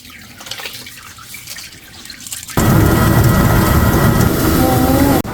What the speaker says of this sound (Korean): 한 번 더 헹궈서 물기를 쫙 뺀 다음에 방앗간에 가면